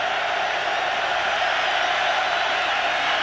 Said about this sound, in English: Crowd deafening right now.